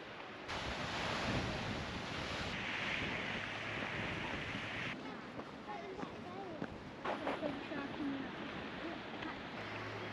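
Waves and wind at the Lulworth Cove viewpoint on the coast: a steady wash of surf under heavy buffeting wind noise on the microphone, broad and continuous, with faint distant sounds and no clear speech.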